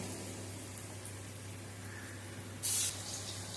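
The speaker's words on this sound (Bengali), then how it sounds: "সর্ষের তেলটা গরম হয়ে গেছে এবার এর মধ্যে বড়াগুলো ভেজে নেব" Ridge gourd fritters fry in hot mustard oil in a wok, making a faint, even hiss throughout with one short, sharper spurt of spitting partway through.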